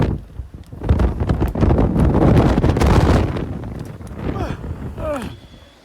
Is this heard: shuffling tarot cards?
no